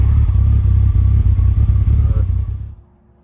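An Audi UrS4 engine running rich, idling rough and sputtering from the tailpipe, a loud, uneven low rumble close by that cuts off abruptly near the end.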